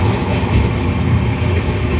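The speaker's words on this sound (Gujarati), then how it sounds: "ટ્રેન આવી રહી છે" A train pulls into a crowded railway station, its heavy low rumble and rolling clatter steady and close across the short stretch, with no talk over it.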